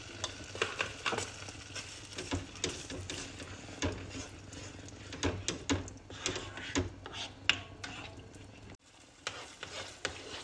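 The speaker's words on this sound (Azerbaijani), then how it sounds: "Üzərinə bir xörək qaşığı pomidor pastası, bir xörək qaşığı da biber pastası əlavə edib qarışdırıram." A spoon stirs a spoonful each of tomato paste and pepper paste into hot oil in a pan, with scraping strokes in an irregular rhythm over a soft sizzle, close and moderately quiet.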